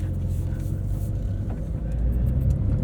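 A 2023 Porsche 911 Dakar pulls away on a drive, its engine and road noise forming a steady, close, low rumble that swells slightly toward the end.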